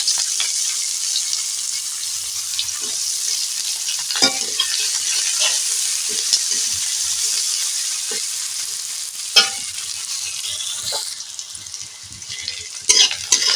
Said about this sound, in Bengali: পেঁয়াজটা খানিক্ষণ নাড়াচাড়া করে নিয়েছি আমি